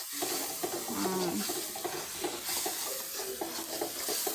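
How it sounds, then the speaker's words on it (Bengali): Spices (turmeric, chili, garam masala) sizzle in a pan with a steady frying hiss, punctuated by the scrape and clink of a spoon stirring throughout. "কষাচ্ছে মশলা"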